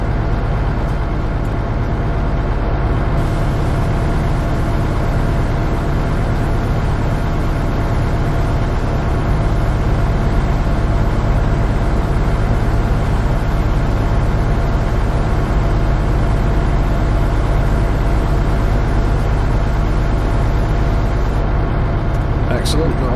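A jet washer in Farming Simulator 22 runs as a loud, constant low mechanical drone with a steady hiss, unchanging throughout, with someone talking over it.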